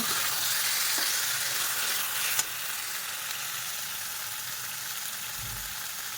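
Potatoes frying in a pan, a steady, close, dense sizzle that carries on throughout, with one faint clink of a utensil early on and no voices.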